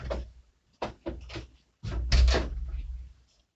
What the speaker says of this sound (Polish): chwileczkę muszę zamknąć drzwi